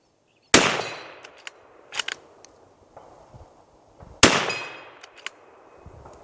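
A Ruger American Ranch rifle in 300 Blackout fires two sharp, loud shots a few seconds apart outdoors, each followed by a brief decay and scattered small clicks and knocks of handling.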